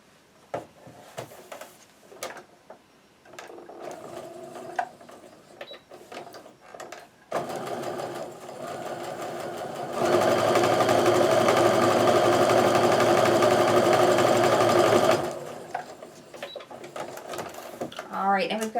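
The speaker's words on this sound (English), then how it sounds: "So now I'm going to sew that end piece on." A sewing machine sews the end piece onto a quilt block, first in short bursts under a speaking voice, then in a loud continuous run of rapid stitching that tapers off as talk resumes.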